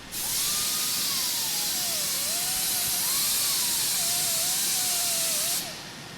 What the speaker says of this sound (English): That's the sound of burrs of steel being ground off a steel hitch that has just come out of a mold.